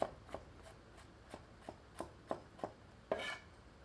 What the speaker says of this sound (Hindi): 4 से 5 लहसुन की कलियों को बारीक काट लेते हैं।